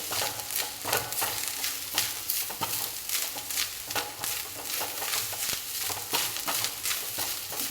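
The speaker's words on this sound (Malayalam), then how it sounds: "ഈ നമുക്ക് ഉണക്ക് തേങ്ങ വറുത്തെടുക്കുന്നതാണ് നല്ലത്" Dried grated coconut roasting in a pan, with dense crackling sizzle and repeated scraping strokes of a spoon stirring it, close and steady without speech.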